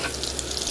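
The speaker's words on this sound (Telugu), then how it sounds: "దాని తర్వాత ఆనియన్స్ వేసుకొని మంచిగా వాటిని ఫ్రై చేసుకోవాలి." Onions frying in oil in a pan give a steady, close hiss and sizzle for a brief moment, with no voices.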